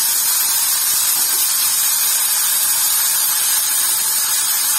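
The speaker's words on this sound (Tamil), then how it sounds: "இப்போ அதலக்காய் போட்டுடலாம். நல்லா வதக்கிட்டே இருக்கணும்." Bitter gourd (athalakkai) sautés in a hot pan, making a loud, continuous, even sizzling hiss close by, with no talking.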